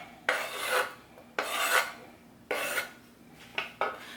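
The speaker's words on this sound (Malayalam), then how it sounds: "അപ്പോൾ കട്ട് ചെയ്തെടുത്ത പഴം നമുക്കിതിലേക്ക് ഇട്ട് കൊടുക്കാം." Cut banana pieces for a fruit salad go into a bowl in four separate rasping, sliding bursts, close and clear, with short pauses between them.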